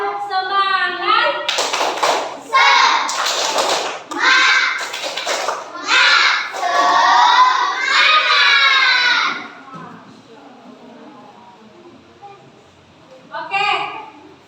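A class of children chants the tepuk semangat spirit clap in rhythmic unison, loud voices punctuated by sharp group claps, then a pause with an adult voice briefly speaking near the end.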